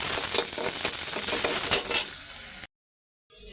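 A bay leaf sizzles in hot oil, giving a dense, bright crackle that fades and then cuts to silence before a faint return.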